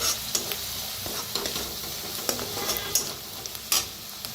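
Chopped onion frying in a pan with turmeric and coriander powder is stirred, making a steady sizzle with repeated soft scraping strokes of the spoon, close and clear without any talking.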